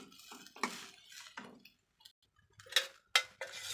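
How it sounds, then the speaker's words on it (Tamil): Cooked rice being stirred through a mint-rice mixture in a pan, a spoon scraping and clinking against the metal in a few uneven bursts with short pauses between, fairly close and moderately loud. "சாதம் சேர்த்துட்டு நல்லா கிளறிக்கலாம் ஃப்ரெண்ட்ஸ்"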